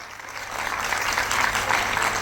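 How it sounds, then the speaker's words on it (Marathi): An audience at a Mangala Gaur women's competition in Thane gives applause that swells and holds as a dense, steady crowd clapping, fairly distant and without talk. "जरा जोरदार टाळ्या झाल्या पाहिजेत"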